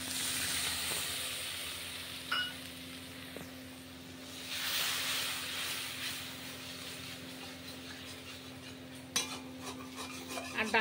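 Fennel seeds, bay leaves and dried red chillies crackle in hot oil as a spice tempering for dal. A steady close sizzle and hiss carries light stirring scrapes and a few small pops, with no talk.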